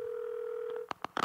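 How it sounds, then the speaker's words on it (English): A telephone dial tone holds steady, then cuts off as a few quick dialing tones beep in irregular succession, close and clear. "I'll call RR Management and just see who comes to the phone"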